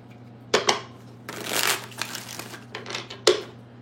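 Tarot cards are shuffled by hand in a few quick riffling bursts, with sharp snaps and softer flutters of card stock spaced unevenly, close and fairly loud, with no voice.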